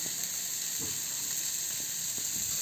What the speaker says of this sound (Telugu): ఇప్పుడు ఫ్రై అవుతూ ఉంది.